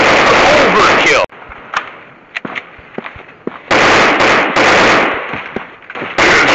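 Rapid automatic gunfire in a realistic first-person commando shooting video game, loud and close, coming in long bursts separated by short pauses filled with scattered single shots and pops.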